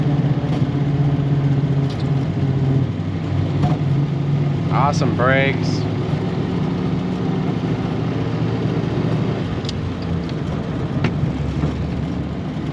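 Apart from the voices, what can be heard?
1938 Ford Deluxe Sedan with Flathead V8 engine driving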